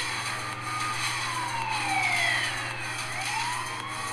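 A police siren chasing the player in the mobile driving game The Offenders, its rising and falling wail steady over a low engine hum, with no talking.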